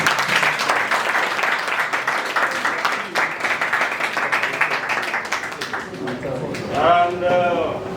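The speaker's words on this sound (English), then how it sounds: "Can we give them a round of applause?" Applause from an audience at the launch of the Sierra Leone community in Casablanca, Morocco, a steady crowd clapping that continues for several seconds and fades toward the end, with tonal sounds coming in at the close.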